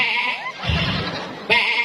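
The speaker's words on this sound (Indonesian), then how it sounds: "Adik itu bunyi kambing" A goat bleats in two drawn-out, wavering cries close by, with a short gap of rougher low noise between them and no talk over the calls.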